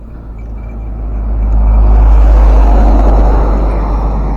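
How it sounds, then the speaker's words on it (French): A dump truck rumbles past on a road beside open countryside, going off to collect gravel; a loud, deep engine roar swells as it nears and stays heavy and continuous, with no talking. "Voilà, c'est ça, les camions bennes."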